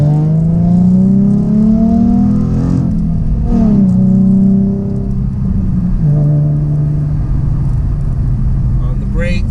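A Ford Mustang Black Transformers Edition accelerates hard with a loud exhaust, the engine note climbing through rising revs in repeated pulls, up close inside the cabin with a driver talking over it.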